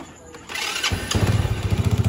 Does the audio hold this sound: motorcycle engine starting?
yes